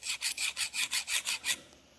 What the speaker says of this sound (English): that was the sound of two scissors scraping against each other.